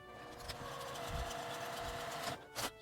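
A sewing machine stitches the top seam of a fabric half-3D face mask with a 1 cm seam allowance. It makes a faint, steady mechanical hum with a rapid stitching pulse and a small clatter near the end.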